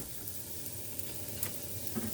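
Garlic sizzling and frying in a pan while hot pot is prepared, a steady soft crackle with faint scattered pops, fairly quiet and unbroken by talk.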